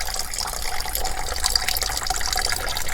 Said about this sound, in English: Letting the coolant drain out before I put all this distilled water in this